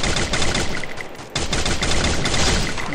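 A FAMAS rifle in a video game fires rapid three-shot bursts, loud and close, with a brief pause midway before the shots resume.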